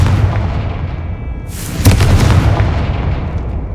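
Explosive spell blast in the Hogwarts Legacy video game, a sudden booming burst partway through with a broad crackling roar that rumbles and fades over a steady low game background.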